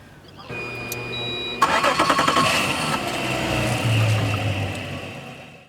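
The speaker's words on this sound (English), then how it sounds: "you can now start the engine." A motor boat engine cranks and catches, then settles into a steady, loud idle that continues to the end.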